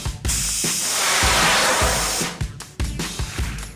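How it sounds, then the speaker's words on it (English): Hairspray sprays from an aerosol can in one long, loud continuous hiss of about two seconds, followed by several shorter bursts and clicks nearby. "all that remains is to coat it with hairspray"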